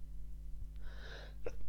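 A single short sneeze is heard, moderately close and somewhat muffled, over a steady low electrical hum.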